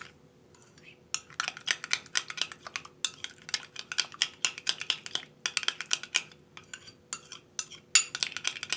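A spoon stirs a homemade cosmetic cream mixture in a small bowl, making rapid, light clinking and scraping taps in an uneven rhythm, close and fairly quiet, with no voices.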